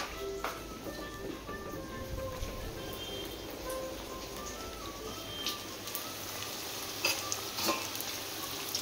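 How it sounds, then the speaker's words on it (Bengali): Pakoras fry in hot oil, a soft, steady sizzle and crackle with scattered pops. A few clinks of utensils sound near the pan, all fairly quiet, with no talking. "পকোড়াটা ছেড়ে আসলাম গরমে"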